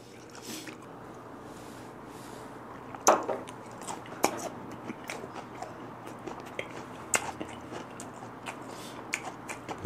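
Close chewing and biting of boiled bigfin reef squid, soft squishy mouth sounds with a few sharper bites, steady and near over quiet room noise, no talking.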